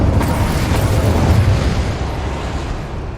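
Incendio fire spell cast in Hogwarts Legacy, a loud, close whooshing burst of flame that roars and rumbles, then slowly trails off over a few seconds.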